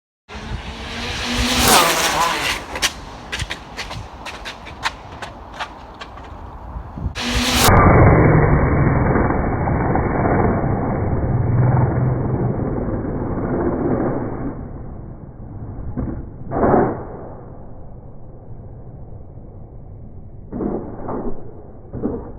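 An Arrma Limitless RC car with a 2028 1100kv motor and XLX2 makes a speed run on a road, with a loud rushing roar, crackling bursts and wind buffeting that surge, then settle into a muffled drone with brief swells.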